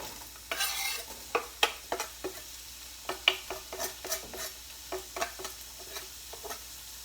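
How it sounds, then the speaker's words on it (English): Onions frying in a hot pan give off a soft, crackling sizzle, with a series of sharp clinks and scrapes from a spoon stirring them at close range. "I'm going to put my onions in here and they will crackle and sizzle too"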